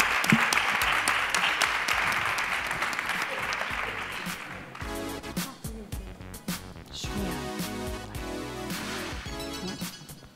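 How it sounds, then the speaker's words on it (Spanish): Audience applause at a diabetes awards ceremony, a full room clapping loudly and steadily, then thinning into scattered claps with some voices toward the end. "Un fuerte aplauso."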